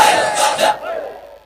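A large rally crowd raises a loud, brief collective shout, a single surging chant that swells and cuts off within about a second, with no talk over it.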